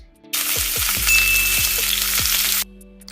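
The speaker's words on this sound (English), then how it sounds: "We're gonna start cooking the spinach with the garlic paste." Loud, steady sizzling of spinach and garlic paste frying in a pan starts abruptly, with a few utensil knocks, then cuts off; no voices.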